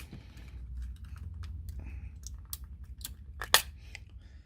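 Plastic parts of an Atari 5200 controller being pried apart during a rebuild: a quiet series of small clicks, scrapes and snaps, ending in one sharper pop near the end, close and unaccompanied by talk.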